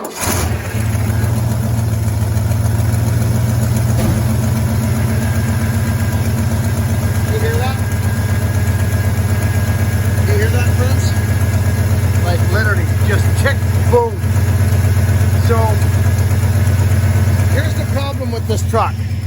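Cold 1978 Ford F-250 crew cab truck engine starting and settling into a steady, loud idle that runs the whole time, with someone talking over it.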